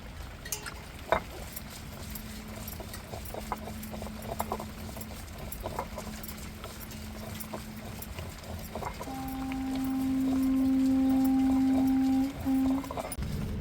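Coconut, garlic and onion crushed on a traditional ammi grinding stone, giving irregular close knocks and rolling clacks, joined later by a steady droning hum that swells and then stops.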